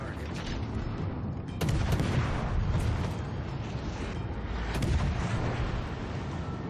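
Heavy naval artillery booms out in a World of Warships Legends battle, dense rumbling salvos with sharp blasts rising near the start and again later, a loud, continuous barrage of shipboard gunfire.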